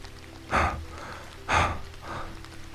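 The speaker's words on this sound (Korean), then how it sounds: "거친 숨소리가 들렸다." Two deep, heavy breaths a second apart, each a loud rasping huff followed by a softer exhale, close up.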